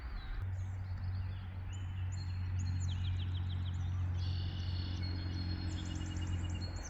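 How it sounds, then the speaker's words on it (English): Wild birds chirp and tweet by a lake, repeated high, thin calls over a steady low hum of background noise. "Can you guys hear all of those birds?"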